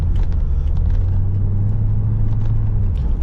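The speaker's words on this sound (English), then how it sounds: "That is a small block Chevrolet engine right there, folks." A 1995 Chevrolet Corvette C4 with a small-block V8 and an aftermarket exhaust rumbles steadily at low speed in traffic, a deep continuous drone held close and loud throughout.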